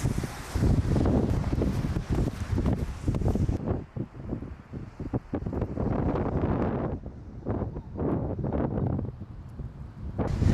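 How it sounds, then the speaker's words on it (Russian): Strong, gusty wind buffets the microphone outdoors during a snowstorm near a bridge in California, a loud continuous roar with brief lulls and renewed blasts throughout. "Ой, какой ветер сильный."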